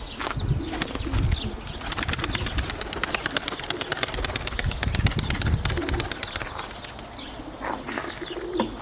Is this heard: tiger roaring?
no